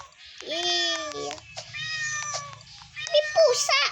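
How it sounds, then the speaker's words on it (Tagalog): A cat meows several times in drawn-out, rising and falling cries, close and fairly loud, with a low purr-like rumble beneath and a sharper meow near the end. "May pusa."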